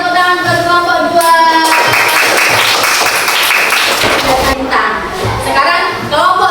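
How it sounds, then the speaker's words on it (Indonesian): Classroom applause for a student group during a lesson, a burst of many hands clapping at close range that swells, holds for a few seconds and then tapers, with voices around it. "tepuk tangan buat kelompok 2"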